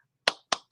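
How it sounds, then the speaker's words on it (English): Hand clap sound effect triggered from a button, two crisp claps about a quarter second apart with a third starting at the end, each with a short ringing tail, over near silence. "I want the hand clap."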